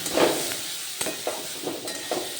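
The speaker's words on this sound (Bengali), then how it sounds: "এবার এটাকে ভালোভাবে নাড়াচাড়া করব নাড়াচাড়া করে ঢাকা দিয়ে রেখে দেবো ঢাকা দিয়ে মিডিয়াম টু লো ফ্লেমে কিন্তু এটাকে ফ্রাই করতে হবে" Leftover roti dough pasta stirred in a frying pan, a spoon scraping in several quick strokes over a soft sizzle, close up with no voices.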